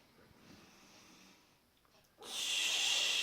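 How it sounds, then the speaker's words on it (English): A person breathes out through pursed lips and tongue, making a loud, steady hissing shh that follows a quieter breath. "out through the mouth, through pursed lips and tongue."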